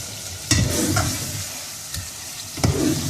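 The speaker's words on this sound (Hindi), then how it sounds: "ये जो मैरिनेशन रखी हुई थी हमने करके, इसको थोड़ा सा चलाएंगे" Marinated meat sizzles and fries in hot oil for Bihari pasanday as it is stirred, a steady close crackle with a few louder scraping stir strokes.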